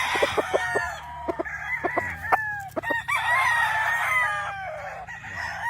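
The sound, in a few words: gamefowl rooster crowing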